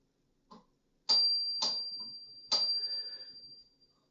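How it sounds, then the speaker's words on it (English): Bicycle bell on an off-road mountain bike rung three times in close succession, each bright metallic ding leaving a long sustained ring that decays slowly, with a faint click just before the first strike. "Pretty much all of my mountain bikes or bikes that are dedicated for off road use do have some kind of a bell on them"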